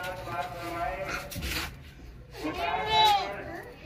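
A goat at a livestock sale bleats in wavering, nasal calls, one early and a louder one near the end, heard fairly close over a busy background with people talking.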